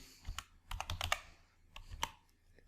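Keystrokes on a computer keyboard while entering text into a spreadsheet cell, a quick irregular run of light clicks with short pauses, close and fairly quiet, with no talking.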